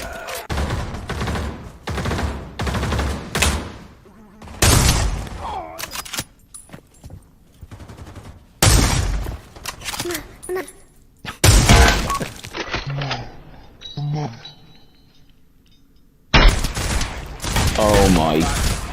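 Gunfire in a VR shooter game, heard as repeated bursts and rapid volleys that cut in and out over about twenty seconds, loud and close, with a player talking in between and over the shots.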